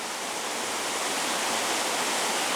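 A waterfall rushes in a dense, unbroken roar of water, loud and close, with no voices or other sounds.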